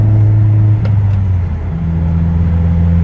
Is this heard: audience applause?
no